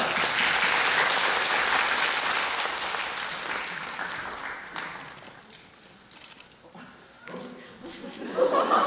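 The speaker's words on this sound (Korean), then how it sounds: "박수 한번 주세요." Audience applause at a magazine show event with musical actors, loud and dense at first, then thinning and fading, with scattered chuckles and voices breaking in toward the end.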